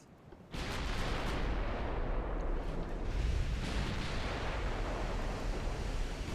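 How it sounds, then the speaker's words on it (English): Naval artillery fire in the warship game Ultimate Admiral Dreadnoughts, with big guns shooting at light cruisers: after a brief lull, a heavy blast breaks in and becomes a loud, sustained rolling roar of gunfire. "Oh, they are firing at our light cruisers."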